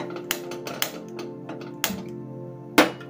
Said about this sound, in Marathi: आपण गॅस चालू करून घेणार आहे